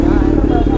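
Kawasaki Z900 motorcycle fitted with a full-system aftermarket exhaust, idling loudly and close by in a steady, throbbing burble with clattering mechanical noise.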